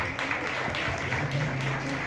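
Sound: audience applause at photowalk opening

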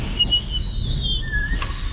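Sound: shop door whistling in strong wind

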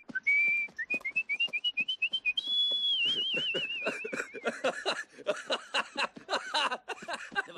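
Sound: person whistling imitating a bird call

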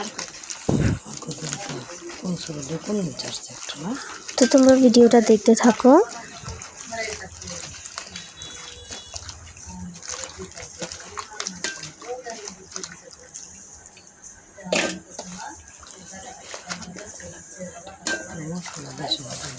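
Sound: washing taro pieces in water

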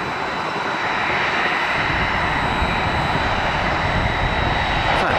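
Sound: heavy jet aircraft passing at airport

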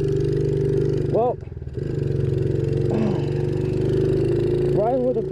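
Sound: motorcycle engine while riding

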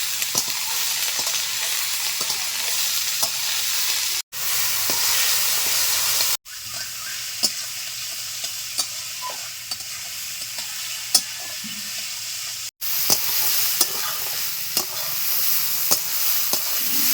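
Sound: snake gourd frying with green chillies in pan

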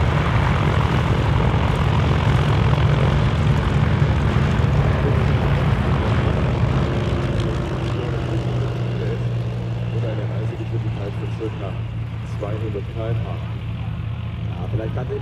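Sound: vintage propeller airplane approaching to land on grass

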